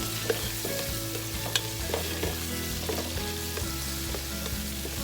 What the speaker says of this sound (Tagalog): Halu-haluin lang po natin siya.